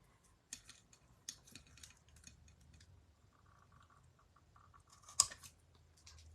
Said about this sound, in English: I haven't done too much of the flagging with scissors